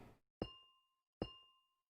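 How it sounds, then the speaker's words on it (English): Two placements of an amethyst block in Minecraft give a soft percussive tap, each followed by a clear, ringing bell tone that slowly fades, spaced under a second apart. "it makes kind of a bell tone when you put it down"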